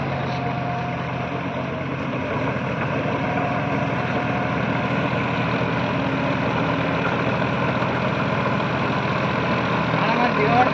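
A tractor engine idling during a farm demonstration in Chityalapelli, Karimnagar, putting out a steady, loud low rumble that swells slightly toward the end while people talk nearby.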